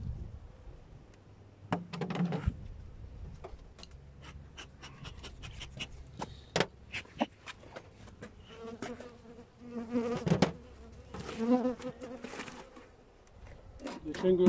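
Honeybees drone and buzz around an opened hive during an October inspection, a steady insect hum close by, mixed with scraping and clicks from the hive frames and a voice speaking intermittently.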